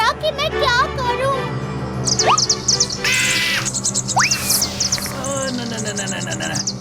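A cartoon bird in an animated Hindi children's story gives sharp, rising screeches and chirps amid playful music and effects, with a child-like voice speaking in between.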